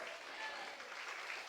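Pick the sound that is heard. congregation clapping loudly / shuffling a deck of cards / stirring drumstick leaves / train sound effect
congregation clapping loudly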